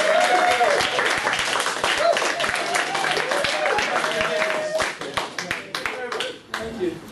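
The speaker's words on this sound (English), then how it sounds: "So just one big round of applause for the team." A crowd applauds steadily with dense, loud clapping that tapers off toward the end, with some voices mixed in.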